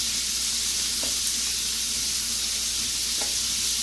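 Low carb cashew chicken pieces sizzle in a pan, a loud, steady, close frying hiss with a couple of faint pops and no voices.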